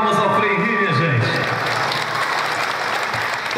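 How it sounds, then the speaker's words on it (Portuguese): Audience applause at a school project closing event in Rio Maria, a dense steady clatter of many hands that fills the whole stretch, with a voice faintly audible beneath it. "uma salva de palmas ao Frei Rio"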